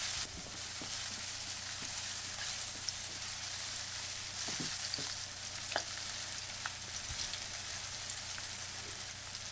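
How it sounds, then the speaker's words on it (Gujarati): Eggplant and green peas mixture fries in oil over a low flame, a steady dense sizzle with light scraping stir strokes throughout. "હવે આપણે મિશ્રણને બધું મિક્સ કરીને સરસ તેલમાં શેકી લઈશું."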